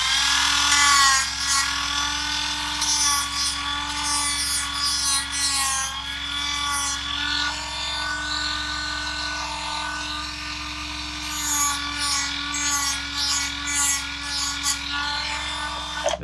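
A Dremel rotary tool grinds material off a plastic RC car chassis part, a close, steady high-pitched whine with a continuous rasp of abrasion and a few brief bursts of harsher contact.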